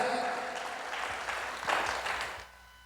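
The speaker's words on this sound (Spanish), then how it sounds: "Fuertes aplausos a la pastoral social" A church congregation gives a short round of applause for the pastoral social team, a steady wash of clapping that fades out near the end, with some voices mixed in.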